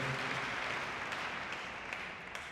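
A church congregation claps for Jesus, a dense steady wash of many hands applauding together from across a large room.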